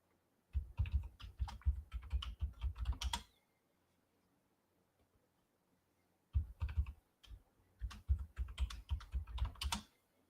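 A password typed on a computer keyboard: two quick bursts of close, crisp key clicks separated by a few seconds of near silence, quiet overall and with no voices.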